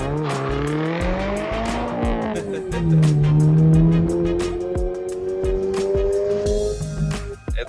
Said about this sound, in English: Let's do one more launch like I intended.